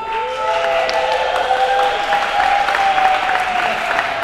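An awards ceremony audience applauds its hosts, loud sustained clapping from a crowd with a few cheers mixed in, over music that plays underneath.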